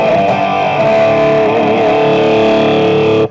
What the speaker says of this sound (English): Then there's the basic crunch that I'm using, which is like sort of like the heavy